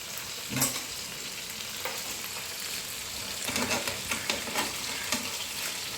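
Chicken pieces frying in oil in a pan for Kerala-style chilli chicken, a steady close sizzle with occasional stirring scrapes, no speech.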